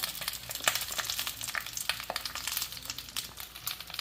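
Thick coconut milk, pressed from a piece of coconut, added to fish cooking in a pan: steady close sizzling and bubbling with faint stirring scrapes throughout.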